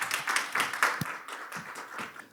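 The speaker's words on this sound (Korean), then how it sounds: "큰 박수 부탁드리겠습니다." Audience at a scientific seminar on protein structure and drug development gives a short round of applause as the next speaker is called up, a soft, steady wash of scattered hand claps at moderate distance.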